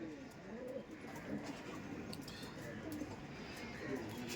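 Soft, repeated cooing of a Punjabi pigeon pair, a Hajarbali and a Mirabbali, murmuring low and close under steady background noise and nearby voices.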